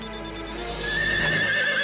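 A phone ringtone plays continuously at close range, its tone warbling steadily, with no talking.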